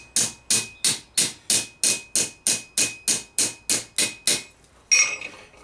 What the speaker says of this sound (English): get something like this one, a nice chisely stake, chisely hammer, something like that,